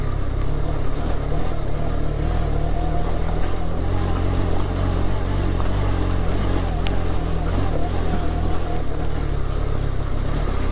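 A motorcycle ridden slowly along a rough village road in fog gives a continuous, loud engine rumble mixed with wind noise, holding steady throughout without letting up.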